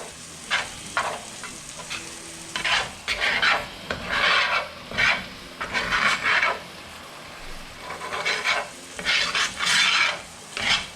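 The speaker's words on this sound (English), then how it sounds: "over here cooking the roux now" Flour roux cooking in a pan on the stove, a close sizzle broken by repeated rhythmic scraping strokes of a spoon stirring through it, steady and fairly loud with no talk.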